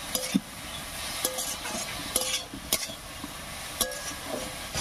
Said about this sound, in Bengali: এবারে বেশ কিছুক্ষণ সময় নিয়ে আস্তে আস্তে ভাজা করে নেব।